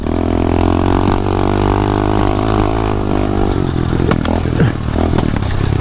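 A 125cc pit bike engine droning loud and close while the bike rides across grass, a steady buzzing roar with slight pitch wavers and some clattering knocks toward the end.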